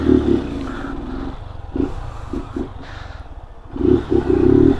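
A motorcycle ridden on the street and recorded on a GoPro Hero 11: a loud engine drone with repeated revving bursts and wind buffeting, no talk.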